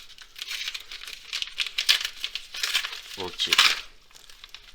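Paper crinkles and tears in uneven bursts as a mailed envelope of Pokémon cards is ripped open by hand without scissors, with a voice speaking briefly in French.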